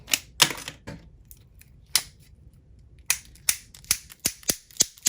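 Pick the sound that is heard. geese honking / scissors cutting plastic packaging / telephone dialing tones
scissors cutting plastic packaging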